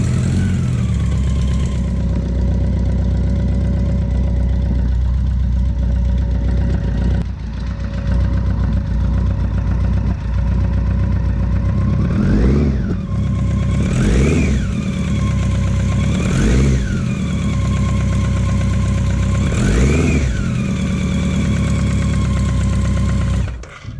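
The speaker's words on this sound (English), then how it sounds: "I'll just start the bike up" A BMW K100 motorcycle engine on a cafe racer build runs close by, first settling into a rough idle, then blipped in several sharp revs that rise and fall before it cuts off at the end.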